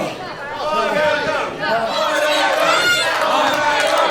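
A wrestling crowd shouts and chants loudly during a Charles Crowley vs CJ Carter match, a close, dense roar of many voices with rhythmic surges, and a commentator is heard talking over it.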